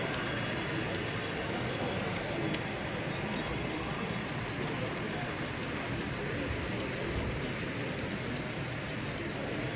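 Model Pendolino train on a detailed exhibition layout rolling steadily with a constant whirring, rumbling wheel noise, moderately loud and unbroken throughout, with no talking over it.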